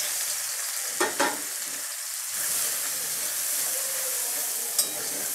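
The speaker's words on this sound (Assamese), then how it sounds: "কড়াইতে আবারও তেল দিয়ে দিলাম। এবার আমি এখানে পেঁয়াজ ঢেলে দেব।" Onions are poured into hot oil in a wok and hit it with a loud, bright sizzle. The sizzle holds as a steady hiss, with a few stirring clinks along the way.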